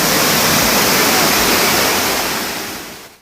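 A waterfall in Meghalaya roars as a loud, steady broadband rush of falling water, close and continuous, fading slightly at the end.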